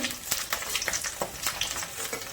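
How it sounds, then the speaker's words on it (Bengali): Onions frying in oil for a rohu fish korma, a steady close sizzle and crackle with small spattering pops throughout, no voices. "বেরেস্তা ভাজা হয়ে গেছে"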